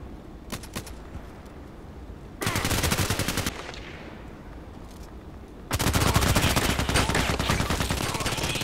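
A Glock 18 firing on full auto in the shooter game Contract Wars: a few quick single shots, then two long, loud bursts of rapid fire separated by a short pause.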